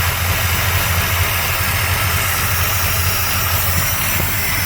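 A Mopar small block with dual quad carburetors idles steadily and loudly close by, its low rumbling lope holding constant throughout with no one speaking.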